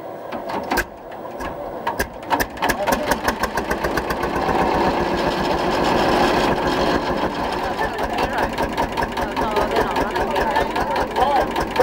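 Bulldog Lanz tractor engine starting, with a few uneven single thumps that settle into a loud, steady, rapid knocking beat of the running engine, heard close up.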